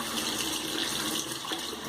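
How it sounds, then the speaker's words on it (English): Water runs steadily from a tap, a close, even splashing stream. "get some water here on my hand to kind of slicken this up"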